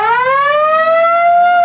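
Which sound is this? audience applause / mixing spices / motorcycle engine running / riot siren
riot siren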